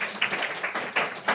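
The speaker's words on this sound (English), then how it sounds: "Okay, round of applause." A pharmacy class applauds a classmate: brief, fairly close clapping from a small group, with uneven bursts of hand claps running together for about a second and a half.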